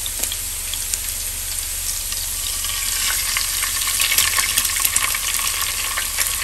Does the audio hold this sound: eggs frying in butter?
yes